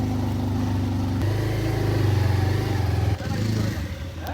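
A motorcycle labours up a steep rural hill road in first gear near a Tripura waterfall, its engine drone loud, close and steady, with a brief dip in note partway through before pulling on.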